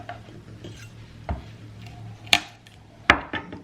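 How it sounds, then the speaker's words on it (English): Knife chopping garlic on a kitchen board for butternut squash soup, a few sharp separate knocks and clicks spaced irregularly, close and fairly faint against a quiet low hum. "at this point, we might as well cut up the garlic as well"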